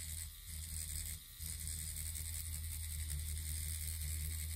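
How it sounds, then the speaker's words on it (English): A rotary tattoo machine running at shading speed gives a steady, close electric buzz with a tonal hum, briefly sagging as the motor bogs down, with no talk. "You can hear that machine bog."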